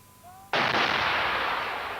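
Artillery fire during the 1995 Croatian war, a sudden loud blast that rolls on as a long rumbling roar in news footage.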